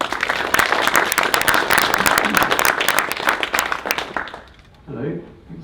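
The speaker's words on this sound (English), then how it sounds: "Give up an applause for Alex." An audience at a Codestar Night tech talk in Utrecht applauds a speaker, a dense crackle of many clapping hands that holds steady for about four seconds and then fades, with a brief voice after it.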